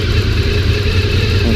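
A Honda VFR 750 motorcycle engine runs steadily after a carburettor rebuild, a loud, close, even idle with a smooth low rumble and no voices.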